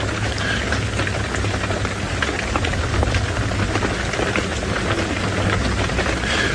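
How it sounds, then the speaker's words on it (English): Rain patters steadily on the roof of an open-sided safari vehicle at sunset, a dense, even drumming of drops that stays close and loud with no voices over it. "And you can hear the pitter-patter of rain on the roof."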